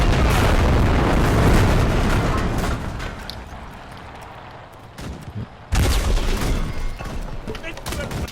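Tank firing a 50 mm cannon in a war video game, heavy booming blasts with long rumbling decay, a loud hit at the start and another sudden burst near the end.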